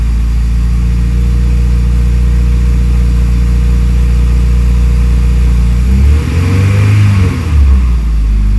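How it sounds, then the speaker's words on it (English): An Acura RSX engine idles with a loud, steady exhaust drone, then revs up sharply and falls back to idle near the end, no talking. "the exhaust is so loud"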